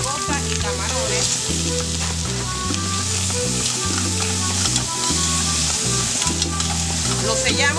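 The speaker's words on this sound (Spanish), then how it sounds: "En una olla caliente le añadimos un toque de aceite de oliva, el pescado, almeja, mejillones, muelas de langosta y camarones." Fish, clams, mussels, lobster claws and shrimp sear in hot olive oil in a pot for a seafood soup, giving a steady sizzle that runs throughout beneath louder background music.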